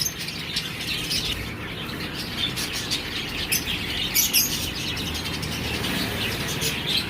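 Many small pet birds in a pet shop in Changoli keep up a busy, continuous chirping, with scattered brighter tweets and faint wing flutters rising above the even chatter.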